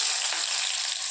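Chopped onions dropped into hot oil with mustard seeds in a wok hiss with a loud, steady, close sizzle that fills the whole brief moment, with no voice over it.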